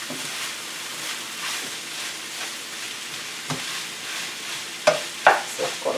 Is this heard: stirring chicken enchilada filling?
yes